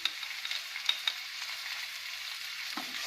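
Onions, peas, fennel, salt, turmeric and red chilli powder frying in a pan give off a constant bright sizzle, with a few soft taps and scrapes of stirring close by.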